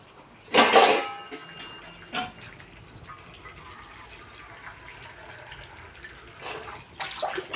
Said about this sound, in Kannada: ಈ ಥರ ಫ್ಲ್ಯಾಟ್ ತಟ್ಟೆ ಮುಚ್ಚಿಟ್ಕೋಬೇಕು ಅದರ ಒಳಗಡೆ ನೀರು ಹಾಕಬೇಕು